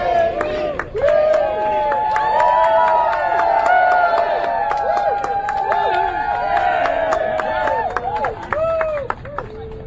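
A large crowd gathered outside a federal courthouse, a steady roar of many voices with shouting and scattered claps, loud and continuous throughout.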